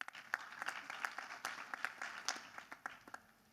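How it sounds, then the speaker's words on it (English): An audience at a digital innovation for development conference gives a round of applause, fairly quiet and loosely spaced claps from a modest crowd, with no speech over them. "please give him a round of applause."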